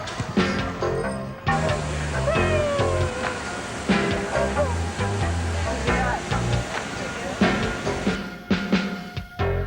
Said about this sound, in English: Backstage meow.